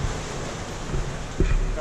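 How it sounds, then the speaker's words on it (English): Ocean waves in roughly 10-foot seas crash against a sailing boat at sea during a 36 to 38 knot blow, a steady wash of wind and water noise broken by a brief heavier thump of water. "10-foot waves."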